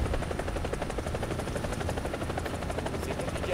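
A helicopter in the combat video game War Thunder gives a loud, steady rotor thump with a dense, rapid chop that holds throughout, with no talking.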